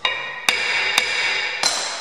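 Light hammer taps on a truck brake disc mounted on a lathe in a machining shop, three sharp metallic strikes roughly half a second apart, each ringing on with a bright sustained tone, close and loud.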